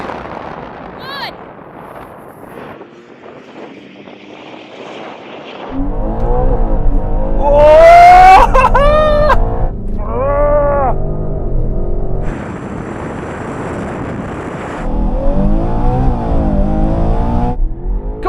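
A BMW car accelerates hard during a test drive, its engine roaring up through the revs in surging bursts after a quieter idle, with people talking and counting down over the rising drive.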